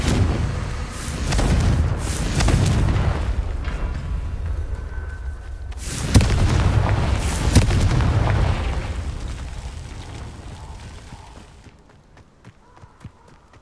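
Confringo spell blasts go off in the Hogwarts Legacy video game, two heavy rumbling explosions roughly four seconds apart, each fading away, the second followed by a long decaying tail. A voice can be heard faintly.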